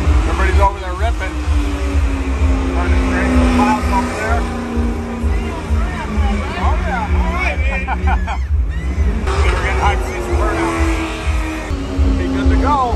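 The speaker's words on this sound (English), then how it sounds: "Second gear burnouts." A car does second-gear burnouts at a Cleetus and Cars event, its engine roaring and revving with tire squeal amid a loud crowd, voices babbling throughout.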